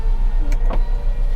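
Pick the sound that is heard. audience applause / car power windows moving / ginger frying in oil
car power windows moving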